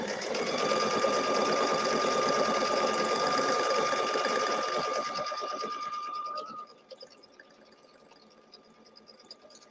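A sewing machine stitches a sweatshirt with a fast, steady mechanical whir and rattle for about six seconds, then stops abruptly, leaving only faint room noise.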